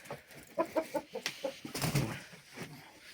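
Roosters cluck in a quick series of short, moderately loud calls, with a brief crow-like burst near the end, and no talking over them.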